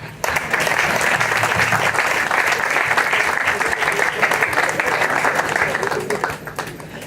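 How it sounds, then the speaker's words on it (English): Loud, sustained audience clapping at a television station commissioning ceremony; a large crowd applauds steadily and densely, fading slightly in the final second. "Give me a professorial clap."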